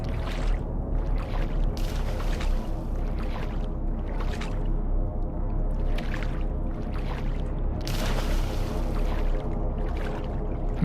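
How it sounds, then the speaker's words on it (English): Continuous watery sloshing and splashing in a horror video game, a steady wet wash with brief louder surges, heard alone without talk. "No, I don't like that I'm hearing splashing."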